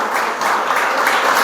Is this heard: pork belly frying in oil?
no